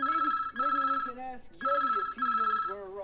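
An old-style telephone bell rings in a cartoon, two long trilling bursts separated by short pauses, loud and close, with a voice speaking between the rings.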